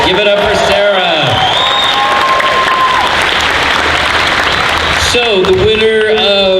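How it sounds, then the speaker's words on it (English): Loud, sustained applause fills a costume contest hall, a dense wash of clapping that swells between bursts of an announcer's voice at the start and end. "Round of applause, please."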